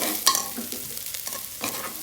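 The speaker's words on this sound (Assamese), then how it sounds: "ৰাইচটো ভাজি লৈছোঁ" Rice for a vegetable pulao frying in a pan over a high gas flame, with a utensil scraping and stirring in several quick strokes over a continuous close sizzle; no voices.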